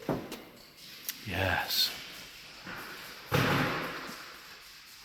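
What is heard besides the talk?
car door being opened and shut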